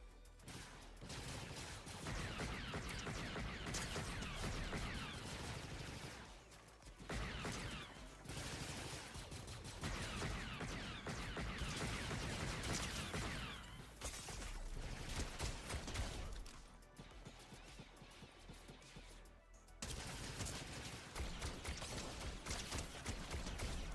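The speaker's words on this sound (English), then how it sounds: "Somebody's shooting at me." Continuous video-game gunfire and combat noise roars on throughout, loud and dense with a few brief lulls, no speech over it.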